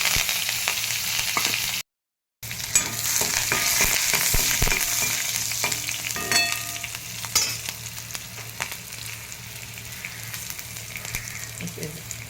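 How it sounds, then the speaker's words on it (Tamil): Hot oil with mustard seeds sizzles steadily as green chilies and curry leaves are tossed in, a bright close crackle with occasional pops and clinks, briefly cut to silence near the start. "இப்போ இதில் கட் பண்ணி வச்சுருக்க பச்சை மிளகாயும் கருவேப்பிலையும் போட்டுக்கலாம்."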